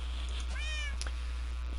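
A Minecraft cat gives a single clear meow, a short rising and falling call standing alone over a steady low hum, with no talking.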